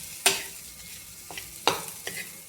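Tomato chutney with salt is stirred in a pan: four sharp scraping strokes of a spoon against the pan, spaced unevenly over a faint sizzle, close and alone.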